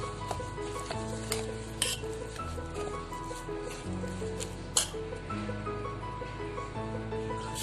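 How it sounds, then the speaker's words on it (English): A spoon stirs curd into a semolina (suji) batter for veg suji toast, giving a soft, wet squishing with occasional light clinks against the bowl, close and quiet. "Now I will mix it with this suji mixture. I will mix the curd properly."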